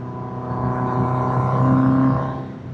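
A 1979 Honda CB750F Super Sport motorcycle cruising smoothly in top gear on a back road at about 55 mph, a steady loud engine drone that swells slightly and then fades a little.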